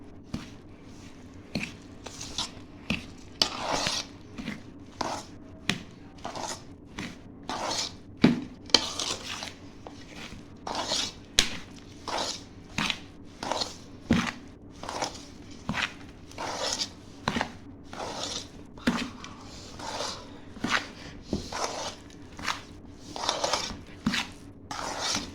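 Mango pickle being mixed with ginger, garlic and oil, heard as a long run of wet, squelching strokes repeating roughly every second, close and fairly quiet with no talk.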